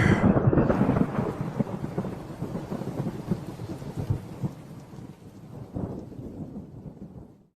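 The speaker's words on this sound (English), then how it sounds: "there's thunder." Loud rolling thunder with steady heavy rain as a sound effect in a parody energy drink ad, the rumble strongest at first and then easing off while the downpour carries on alone.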